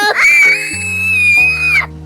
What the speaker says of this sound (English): Cooking with the side of crying and screaming.